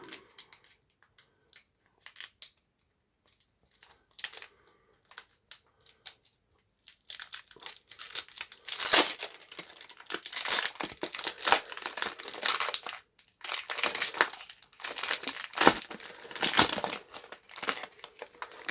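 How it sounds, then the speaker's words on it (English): A Topps Premier League Gold football card pack wrapper being opened: sparse faint handling at first, then sustained loud, close crinkling and tearing of foil for the last ten seconds. "Let's open it up and have a look, shall we?"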